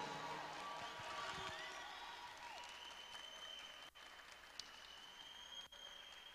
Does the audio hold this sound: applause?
yes